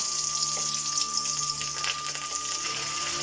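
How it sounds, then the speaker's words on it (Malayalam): Mustard seeds and dried chillies sizzle in hot coconut oil, a steady close crackle with scattered sharper pops from the seeds, continuous and unaccompanied by talk. "അപ്പം നമ്മളുടെ വെളിച്ചെണ്ണ ചൂടായി നമുക്ക് ഇതിലേക്ക് കടുക് ഇട്ട് കൊടുക്കാം."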